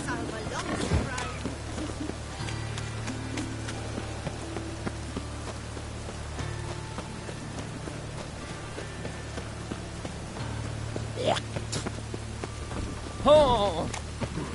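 Dense rain drums continuously on surfaces in a Witcher 3 game scene, with low thunder rumbling underneath and a short louder swell of sound near the end over the constant downpour.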